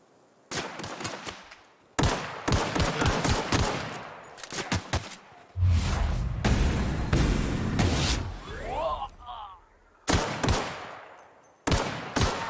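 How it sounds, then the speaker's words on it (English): Rapid gunfire in the sci-fi game The Outer Worlds, heard as loud bursts of automatic shots separated by short quiet gaps, with impacts and an echoing burst partway through. "Oh, where's that guy shooting me from?"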